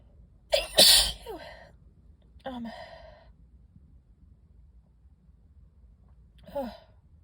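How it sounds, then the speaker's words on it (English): A sneezing fit set off by dusty books: one loud, explosive close sneeze with a sharp intake before it, then two softer vocal bursts, a short breathy gasp and a later sigh-like exhale, in a quiet room. "I'm gonna sneeze again."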